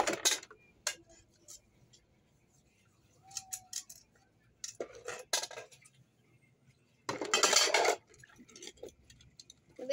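Metallic clinks, scrapes and clatters of a cooking pot being handled, irregular bursts with a louder stretch of rattling near the end, close by with occasional faint voices.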